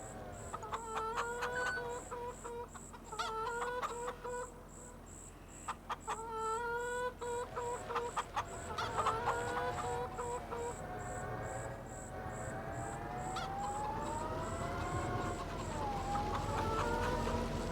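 Chickens cluck in the video game Farming Simulator 25 in repeated short bursts, with a faint steady tone running underneath and a longer warbling call near the end.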